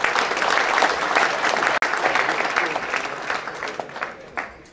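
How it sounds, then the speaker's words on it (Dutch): An audience at a mayor's New Year's speech gives a round of applause: dense, steady clapping that fills the room and then gradually thins out. "ik vind het een applaus waard hoor"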